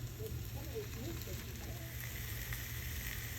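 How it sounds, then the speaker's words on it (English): Seasoned pork frying fat side down in a pan over medium heat, a constant close sizzle and crackle with no breaks. "the seasoned pork. Begin cooking on the fat side first."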